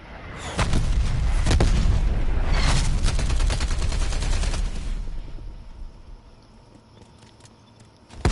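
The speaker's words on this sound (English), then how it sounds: "Artillery targeting detected. Grenade out. Net call. Incoming artillery." Incoming artillery and gunfire in Call of Duty Cold War: a fast volley of sharp, loud explosive cracks and booms for several seconds, then fading into a low rumble before one last sudden hit at the end.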